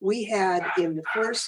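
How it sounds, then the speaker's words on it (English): A neighbour's dog barks and yips in a backyard in a few quick bursts, close and loud, with a person speaking over it. "That's our neighbor's dog."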